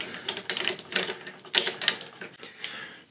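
Screws are tightened into precision rifle scope mount rings, giving a close run of quick, irregular mechanical clicks and ratcheting ticks with no talking.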